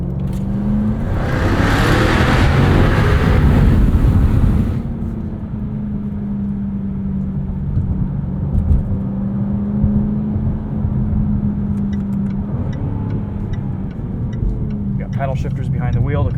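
A 2023 Jaguar F-Type R Coupe with an 8-speed automatic drives along, its engine loud and throaty in the first few seconds before settling into a steady, lower cruising drone that continues to the end.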